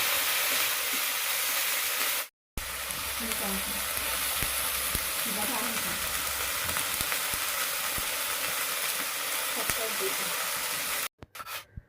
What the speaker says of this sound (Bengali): আর পেঁয়াজটা ভাজা হচ্ছে।